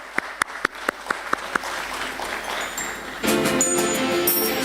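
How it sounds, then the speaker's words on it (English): A round of applause at a stock exchange listing ceremony for a printing agency representative, starting with a few distinct separate claps, then swelling into denser clapping from a seated audience. "Can we please have a round of applause, ladies and gentlemen?"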